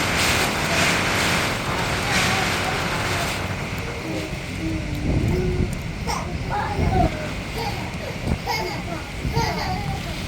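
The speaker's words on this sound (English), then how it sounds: "the wind is coming from every direction now" Strong hurricane wind roars steadily throughout during Hurricane Melissa in Jamaica, a dense, continuous rush with gusty swells and scattered rattles, loud and close, while voices talk intermittently beneath it.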